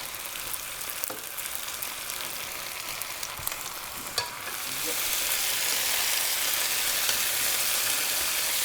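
Vegetables for ratatouille fry in herb-infused olive oil, a steady close sizzle that swells into a louder, fuller hiss partway through and holds there, with occasional stirring and no talk.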